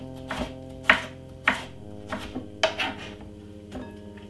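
A knife chopping a yellow pepper on a board, with several sharp, distinct chops at irregular intervals, close and clear, no talking.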